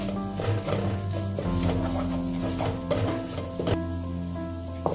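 Chicken frying with turmeric powder in a pan for Kerala-style pepper chicken legs, a steady close sizzle with occasional stirring scrapes, under background music.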